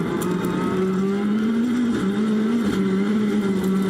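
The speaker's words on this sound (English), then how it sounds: "3 gears in the space of a second and a half, desperately trying to find traction." Heard from on board, a rallycross car at the 2019 World Rallycross of Latvia roars loudly and steadily. Its engine pitch drops sharply with each quick gear change, and the car fights for traction.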